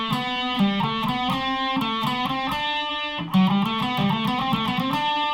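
Distorted electric guitar playing a fast repeating phrase in groups of four notes from a guitar solo, steady and clear with a brief gap before the pattern resumes.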